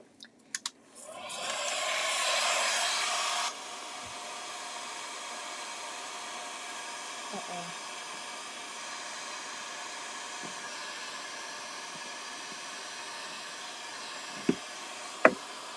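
A hair dryer blows on Pentart cracking paint, a loud steady whoosh for a couple of seconds that then drops to a quieter hum, with a few light knocks near the end.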